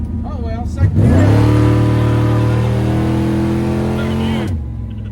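A car fitted with a new Spintech exhaust and X-pipe pulls hard in second gear, the engine note rising steadily into a loud, close, sustained roar after a brief start, with people talking in the cabin.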